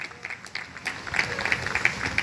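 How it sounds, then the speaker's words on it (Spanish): A church congregation applauds in a brief burst of scattered, overlapping claps with a few sharper strikes standing out, moderately close and unbroken by speech. "Denle un aplauso al que vive."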